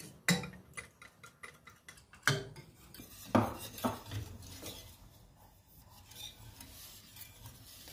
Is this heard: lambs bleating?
no